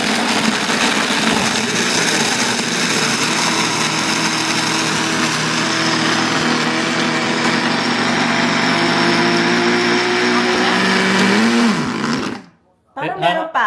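A Black & Decker blender runs a smoothie blend cycle in a home kitchen, a loud, steady high-pitched motor whine that holds for about twelve seconds, dips as the pitch shifts, then cuts off abruptly before a short final burst.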